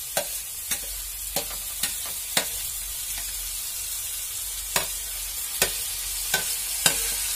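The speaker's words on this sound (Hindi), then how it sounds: "ये हमारा जो बैगन और ये टमाटर को मैंने काट के रखा था वो अब इसमें मिला देंगे" Chopped eggplant and tomato sizzling in a pan on a low flame for baigan bharta, a steady frying hiss broken by regular sharp scrapes of a stirring spoon, with no talking.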